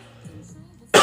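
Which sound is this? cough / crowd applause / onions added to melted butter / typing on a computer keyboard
cough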